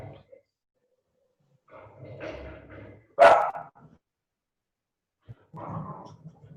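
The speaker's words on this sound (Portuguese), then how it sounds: "Acho que foram as minhas a ladrar." Pet dogs barking indoors at home in a few separate bursts, one sharp loud bark standing out among softer yips and pauses of silence.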